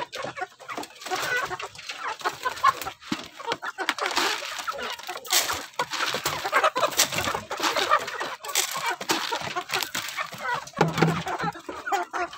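Many chickens of various breeds cluck and crow from cages, a dense, continuous cackling chorus of close and overlapping calls throughout.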